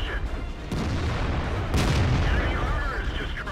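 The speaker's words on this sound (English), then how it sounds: "avoid artillery fire" Artillery shells and tank cannon fire from World of Tanks thud and boom in a dense, continuous barrage. Two sharper blasts stand out near the start and middle, with rumbling battle noise throughout.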